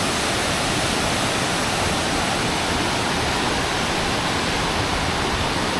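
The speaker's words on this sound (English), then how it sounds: "Quite a bit of water going over. Quite an impressive sight and sound." A powerful waterfall pours over rocks by a bamboo bridge in Mondulkiri, a loud, dense, unbroken roar of rushing water filling the whole space without any voices.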